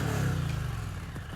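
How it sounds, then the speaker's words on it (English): An Indian Challenger motorcycle's 1768cc V-twin engine revving briefly, a close, loud throaty burst that fades slightly as it settles. "The real difference that the new engine brings to the fore is when you rev it."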